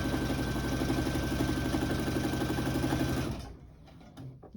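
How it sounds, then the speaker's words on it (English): A domestic sewing machine runs steadily while hemming the armhole of a top, a close continuous motor whir and needle patter for about three seconds, then it stops, leaving a few faint handling sounds. "I'm just hemming"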